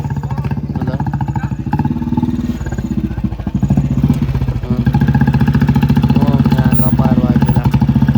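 A motorcycle engine runs steadily after starting at night in Saligrama town, a loud, close, rhythmic mid-pitched putter that grows fuller and louder partway through, with no talk over it.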